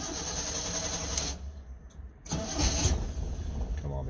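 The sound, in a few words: car engine starting, running on three cylinders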